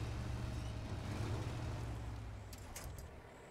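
Autonomous trucks in the video game Snowrunner rumble along with a low engine drone, then a brief hissing air-brake release near the end, no talking.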